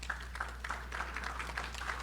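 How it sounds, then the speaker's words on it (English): Faint, steady patter of a crowd clapping at a university presidential investiture ceremony, continuous and even throughout with no voices standing out. "give our provost a round of applause, please"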